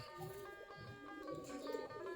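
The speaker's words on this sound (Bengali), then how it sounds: "কবুতরগুলা খোপের কাছে বসে আছে গিরিবাস কবুতর সবগুলা বসে আছে" Giribaz pigeons cooing softly beside their coop, a low, steady murmur of coos that runs through the whole stretch with no one speaking.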